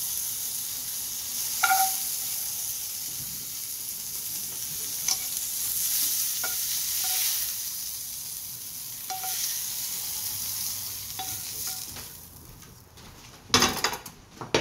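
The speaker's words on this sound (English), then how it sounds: "it's gonna be a quick saute. Almost ready right here." Wagyu beef sautéing quickly in a pan: a steady, close sizzle with occasional light utensil taps and a louder clatter near the end, with no talk.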